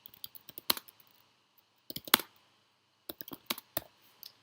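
A computer keyboard being typed on in short clustered bursts of crisp key clicks with brief pauses between, close and clear with no talking.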